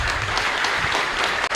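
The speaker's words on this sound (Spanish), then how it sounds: "Fuerte aplauso para todos ustedes." Brief, dense applause from a congregation at a live Catholic Mass in the Santísima Cruz chapel in Ñemby, many hands clapping at once at a steady, full level.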